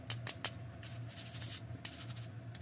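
A small brush scrubs inside Sega Dreamcast controller ports coated with silicone lube, giving soft, quick, close bristly rubbing strokes in short bursts with brief pauses between them.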